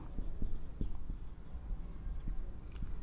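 Pen or chalk writing during a maths lesson on linear equations in two variables, heard as short scratchy strokes in an irregular rhythm, close and fairly soft, with faint whispery voice in the background.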